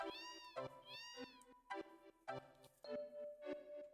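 A cat meows repeatedly in Final Fantasy VII, a string of clear, close, high calls in quick irregular succession, some drawn out and wavering, heard alone without speech.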